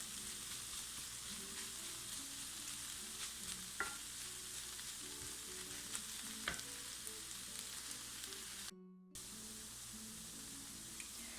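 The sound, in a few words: potatoes and eggplant stir-frying in a pan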